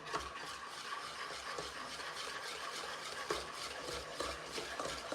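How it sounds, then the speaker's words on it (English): Banana bread batter with banana chunks is stirred in a bowl, giving a continuous faint scraping and swishing texture with occasional light clicks, steady and close without pauses. "So I'm just going to mix everything into my mixture already"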